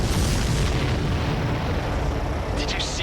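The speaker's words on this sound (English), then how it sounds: "Did you see that explosion?" A supply ship exploding in the combat flight game Ace Combat 7 gives a loud, sustained rumbling boom over dense low-frequency roar, with a brief hissing burst near the end.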